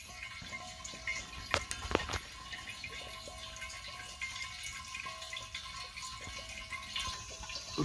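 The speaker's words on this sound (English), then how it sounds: "you can hear the water displacing the air" Faint gurgling and trickling of water moving through a pipe, with soft bubbling as air is pushed out, quiet and steady.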